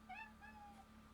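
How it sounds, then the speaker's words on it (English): A pet cat meows loudly indoors, two or three rising, strained calls in quick succession over a steady low hum, with no one talking. "sorry if you hear my cat screaming in the background"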